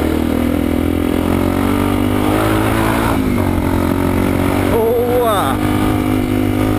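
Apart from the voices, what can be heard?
motorcycle engine revving, accelerating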